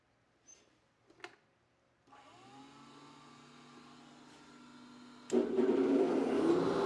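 A lathe turning a piece of fordite spins up with a steady motor hum after a few small clicks, then the pitch drops and a louder, rougher cutting noise takes over as the tool meets the workpiece.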